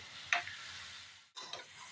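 Marathi-style tempering (phodni) sizzles in a large kadai on a high flame while poha is prepared, a steady hiss with a sharp stir clatter near the start and a brief pause before the sizzle resumes, with no talking.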